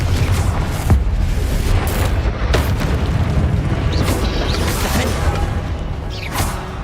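A Confringo fire spell from Hogwarts Legacy, bursting as a deep booming explosion with whooshing magical effects over a dense, continuous game-battle rumble, loud and close.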